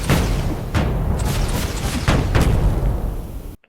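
A cluster bomb in the video game Islands of War goes off as a series of heavy, booming blasts, four or five deep thuds in quick succession over a dense rumble, loud and close, ending abruptly.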